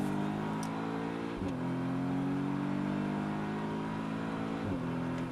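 Audi S3 engine pulling hard on the Anneau du Rhin race circuit, heard from inside the car as a steady rising drone with two brief breaks for gear changes, moderately loud.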